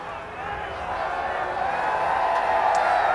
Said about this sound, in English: You hear that cheering